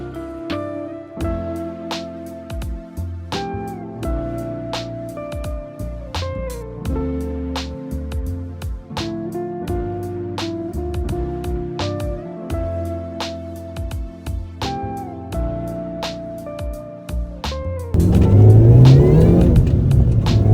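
A Mini Cooper S R53 with a supercharger idles steadily up close after a rebuild and coolant bleed, with a rhythmic ticking and whine, then revs loudly near the end.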